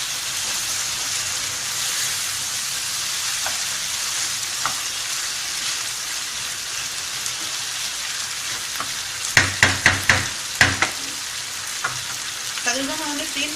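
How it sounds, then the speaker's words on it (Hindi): Taro (arvi) stir-fried in a pan gives a steady sizzle, broken near the end by a quick run of loud spoon knocks and scrapes against the pan, then a brief softer rattle; no one speaks. "अरबी डाल के हम अच्छे से भून रहे हैं इसको।"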